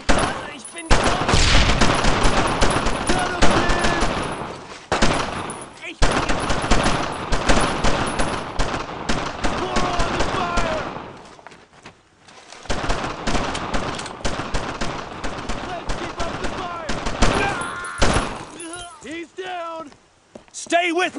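Bursts of rifle and machine-gun fire rattle through a World War II battle in the game Brothers in Arms: Road to Hill 30, heavy volleys in long stretches broken by short pauses, with soldiers shouting over it.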